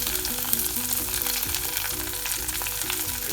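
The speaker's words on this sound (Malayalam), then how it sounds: "അതിനത് കടുക് വറുത്തതും കൂടി ഇതിലേക്ക് ചേർക്കാം." Mustard seeds fried in oil for tempering crackle and sizzle steadily as they go into a Kerala curry of prawns, jackfruit seeds, drumstick and raw mango, a dense close hiss running without pause.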